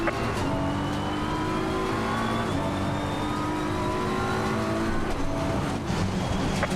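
GT3 race cars in the sim racing game Assetto Corsa Competizione at Brands Hatch keep up a loud, continuous engine howl, with the pitch climbing through the gears and dropping at each shift.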